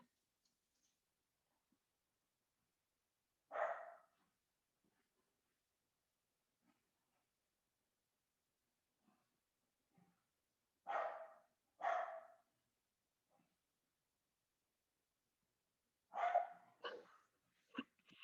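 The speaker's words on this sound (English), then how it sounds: "I don't know if you can hear my dogs, but I'm so sorry if you can." Dogs barking and scuffling outside a room during a quiet beginner yoga session: a few short, muffled barks in separate bursts against near silence, distant and faint.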